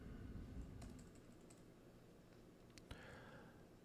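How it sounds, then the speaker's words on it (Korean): Quiet typing on a computer keyboard, a soft scattered run of key clicks with a couple of sharper taps, no voice over it. "타이핑을 좀 할까요?"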